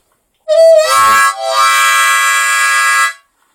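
A harmonica bends a drawn note with a wavering, vowel-like wah, then holds a bright sustained reedy chord, loud and close, for about three seconds.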